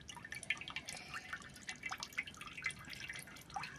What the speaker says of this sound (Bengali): এখন সম্পূর্ণ তেলগুলো ঢেলে নিচ্ছি